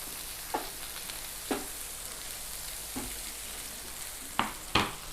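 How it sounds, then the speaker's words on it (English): Butter melting beside caramelizing cheese on a hot griddle during a steak sandwich cook: a soft, constant sizzle with occasional sharp taps and scrapes of a spatula, the last two close together, no talking. "Let that melt and caramelize while we add some butter to this side."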